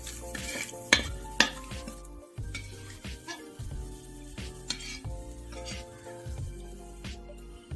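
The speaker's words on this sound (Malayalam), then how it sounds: "ഈ ഓയിലിലേക്ക് നമ്മളിനി ഇരുപത്തി അഞ്ച് ഗ്രാം നട്ട്സ് ആണ് ചേർത്തേക്കുന്നത് ഇതും ഒന്ന് വറുത്ത് മാറ്റാം" Twenty-five grams of nuts fry in hot oil for a chicken roast while a utensil stirs and scrapes the pan in a steady rhythm, with soft sizzling and a couple of sharp metallic knocks.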